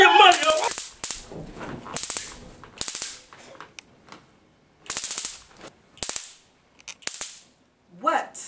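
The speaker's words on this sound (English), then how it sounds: "What would I have done without my stun gun?" A baton stun gun crackles in sharp electric bursts, about eight loud snapping zaps spaced irregularly, with a voice briefly heard at the start and end.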